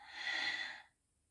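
A single forceful Kapalabhati yoga exhalation, a full breath pushed out through the nose in one loud, close, hissing rush that lasts under a second and then stops sharply.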